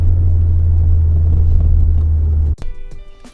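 Fiat Coupe fitted with a Lancia Delta turbo engine rumbles loudly with a deep steady idle for about two and a half seconds, then cuts off abruptly, leaving quieter mechanical ticks and a faint tone.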